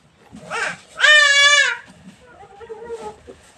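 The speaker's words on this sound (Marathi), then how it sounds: "एकदम अचानक कालपासून असं करतो ते बकरी खूप ओरडते" A goat bleats loudly and close by in one long, wavering cry, with softer bleating calls just before and after it.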